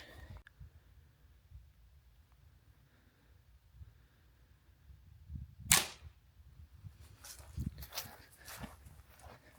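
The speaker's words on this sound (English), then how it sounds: "we're going to do another test shot here" Ruger U Force .22 pellet gun fired once outdoors, a single sharp snap midway through an otherwise quiet stretch, followed by faint shuffling.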